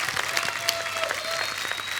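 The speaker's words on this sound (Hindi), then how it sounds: "जोरदार तालियां एक बार चंकी सर और शक्ति सर के लिए।" A studio audience on a comedy talk show claps in a brief, dense burst of applause, close and lively throughout.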